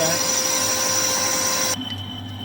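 Manual lathe taking a cut on metal with carbide tools while building a spacer for a custom retro Suzuki GSX: a steady high whine and hum that drops off sharply near the end as the cut stops.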